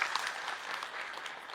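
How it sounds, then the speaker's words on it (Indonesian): Audience clapping at an Islamic religious lecture, a faint, brief patter of scattered hands heard from a distance, quiet and fairly even. "Boleh tepuk tangan dong buat Ahilman ya,"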